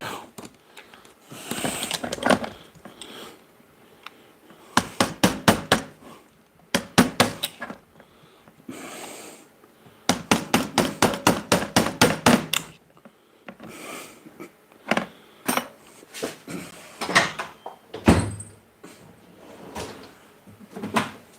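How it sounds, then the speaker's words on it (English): A Snap-on hammer strikes a punch to drive roll pins out, in several bursts of rapid, sharp metallic taps close by, separated by short pauses. "I'm going to use my snap-on hammer."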